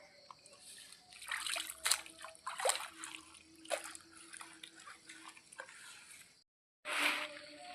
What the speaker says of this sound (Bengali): কতটা ধোয়া হয়ে গেছে দেখুন